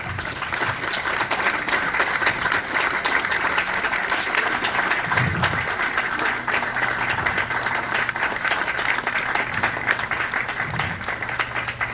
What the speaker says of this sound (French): nous applaudissons moment là